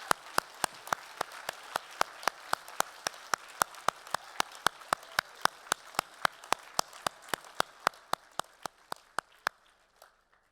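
Steady, evenly spaced claps from a graduation audience at Victoria University in Melbourne, one close pair of hands dominating as a quiet crowd claps faintly behind, fading out after about ten seconds.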